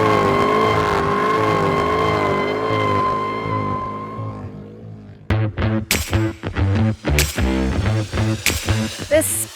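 A 2022 Cadillac CT5-V Blackwing sedan's big engine holds a loud, steady drone that rises and falls in pitch, then breaks into a series of sharp, aggressive revs and barks with brief gaps between them.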